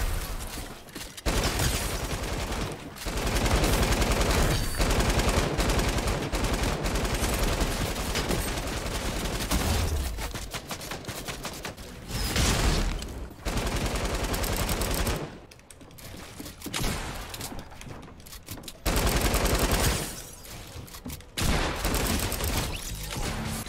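Long sustained bursts of light machine gun fire in Fortnite, rapid continuous rattling volleys broken by short pauses, loud and close, with almost no talking.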